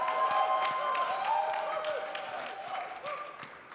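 Audience at a design slam competition in Las Vegas cheering and applauding, a dense wash of clapping and whoops that stays loud and steady, then gradually thins out toward the end.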